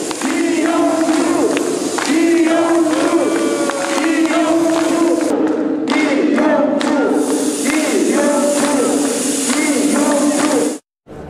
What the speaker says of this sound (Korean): 각 선거 캠프에서는 일제히 환호성이 터졌습니다